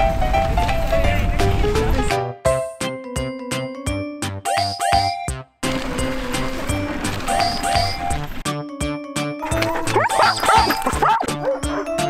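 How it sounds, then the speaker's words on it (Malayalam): Husky sled dogs at a dog-sledding camp in Tromsø, Norway, barking and yipping loudly and continuously, many dogs close by in an excited chorus with high whines and repeated sharp barks. "Let's go dog sledding."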